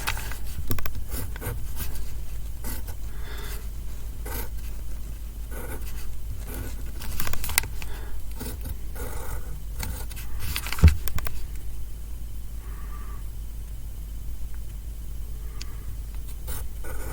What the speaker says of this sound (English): we want to write our names on it. So I'm going to write my name